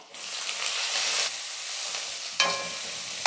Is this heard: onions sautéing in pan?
yes